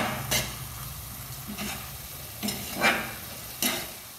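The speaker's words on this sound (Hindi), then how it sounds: "इसको साथ साथ चलाते रहना ताकि इसका कहीं नीचे सेक ना लग जाए।" Masala frying in ghee in a pan for Punjabi chole gives a constant soft sizzle, broken by four or five short scraping strokes of a spoon stirring it, heard close with no talking.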